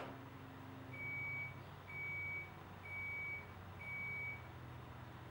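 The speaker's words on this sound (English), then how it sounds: "And the washer is done." A washing machine beeping at the end of its cycle: four evenly spaced, steady electronic tones, each about half a second long, over a low background hum.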